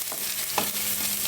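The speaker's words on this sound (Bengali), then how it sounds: "পেঁয়াজটা ভাজা হোক" Onions fry in a pan with a steady, close sizzle and a few stirring scrapes, and no one speaks.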